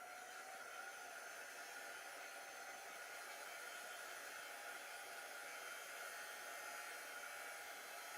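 A hair dryer blows steadily and continuously, drying chalk paint on a fabric wine bag, a constant, fairly faint airy whoosh with a faint whine and no talking.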